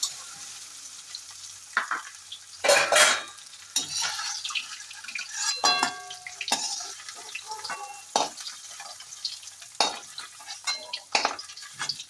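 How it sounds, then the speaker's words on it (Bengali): Soft paneer cubes fry and get stirred in a pan, giving a low sizzle broken by sharp scrapes and clinks of a spatula against the metal at irregular intervals, close and fairly loud, with no talking. "পনিরটা বেশ সফটভাবে ভাজা হয়ে গেছে আর বেশ রঙও ধরেছে"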